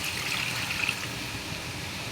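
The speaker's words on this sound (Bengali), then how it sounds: "এই যে পানিটা দিয়ে দিলাম" Water is poured into a pan of fish fried in mustard oil, giving a steady, close trickling and splashing wash that runs evenly throughout with no voices.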